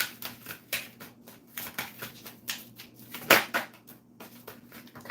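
Tarot cards being shuffled by hand, a rapid run of soft riffling flutters and taps in uneven bursts, close and fairly quiet.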